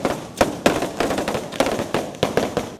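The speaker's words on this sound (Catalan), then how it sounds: "La traca ha culminat amb l'espectacular encesa i els focs artificials des de les hortes" A traca string of firecrackers and fireworks bursts over the orchards at a Ball de Diables festival in Caldes, with sharp cracks going off in an irregular rapid series, loud and close, with no voices.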